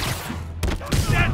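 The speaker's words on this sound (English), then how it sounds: "Repeat, reports of gunfire at the Hammerhead establishment." Gunfire erupts in the Spider-Man: Turf Wars video game, heard as a couple of dense, loud bursts of shots over a steady low background hum.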